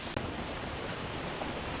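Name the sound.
waterfall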